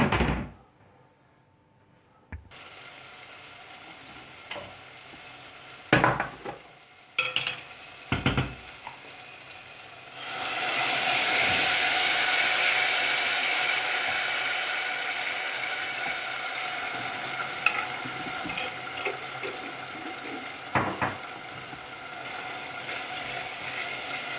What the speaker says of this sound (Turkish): Bir taraftan da soğanın burada kavruluyor.